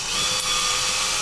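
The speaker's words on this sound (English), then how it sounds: "Now, if I was drilling anything tougher than EVA foam, I'd be wearing protective glasses" A power drill bores a hole through EVA foam, giving a steady, close whirring grind that holds level for about a second with no pause.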